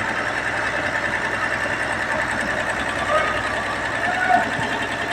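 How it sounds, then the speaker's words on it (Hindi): A Cummins KTA diesel engine running after a nozzle timing and top overhaul, a loud steady mechanical drone with rapid clatter throughout, no talking. "तो फिलहाल इंजन अभी सही चल रहा है"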